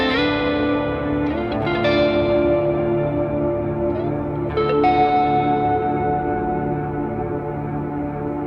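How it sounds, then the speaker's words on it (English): Electric guitar chords played through a Boss GT-1000 modelling a Vox AC30 amp with Ganymede reverb, ringing notes that bloom and sustain with a long, washy tail, played alone without talk. "add in the Ganymede reverb"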